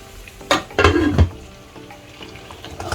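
Mirgal fish curry frying in a pan, with a few loud sizzling bursts and stirring clatter near the start, then settling to a quieter steady crackle.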